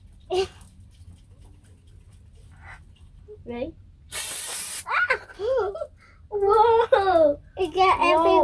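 A sharp hiss bursts from an aerosol spray can as it is sprayed during a playful unboxing. The spray is one loud, short blast, with children's excited voices talking and squealing right after it.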